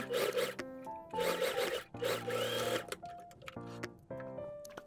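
A sewing machine fitted with an overlock presser foot runs zigzag stitches on linen blouse fabric. It buzzes in several loud bursts separated by short pauses, with faint music underneath.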